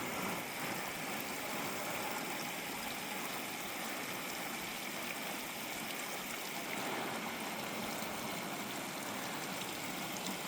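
Water pours from a 10-litre watering can in a steady, continuous splashing hiss, close and unbroken.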